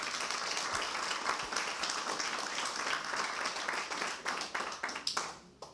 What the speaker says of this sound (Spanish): Amén, aplauso para el Señor.